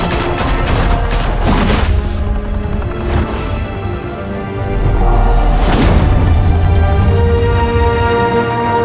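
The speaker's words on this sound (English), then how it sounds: "Open fire!" Loud bursts of gunfire crack out in the Batman Telltale Series game, with heavy volleys near the start, a short burst in the middle and another booming volley later, all over a low rumbling background.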